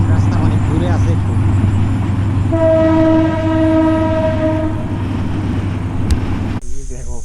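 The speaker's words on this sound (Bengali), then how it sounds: "ট্রেন আসতেছে রে জামেল, ট্রেনটা দেখাই।" A train passes at night along a line near a riverside fishing spot, its heavy continuous rumble joined by a long, loud two-tone horn blast midway. People talk nearby, and the sound cuts off abruptly near the end.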